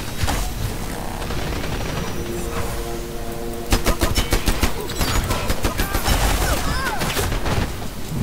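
Rapid assault rifle gunfire in the Dirty Bomb first-person shooter, sustained loud bursts of automatic fire running through the whole stretch, sharpening into denser, punchier volleys midway, with game effects layered in.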